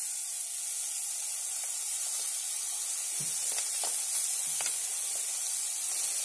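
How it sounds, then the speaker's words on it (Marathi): Vegetables including capsicum fry in oil, a dense, even hiss of sizzling with a few soft stirring knocks in the middle, close and constant. "आता सर्व भाज्या आहेत ना असे सर्व तेलामध्ये टाकून शिजवून घ्यायचे आहेत."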